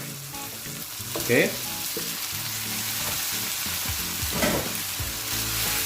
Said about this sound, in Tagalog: at this point, we will add on our marinated pork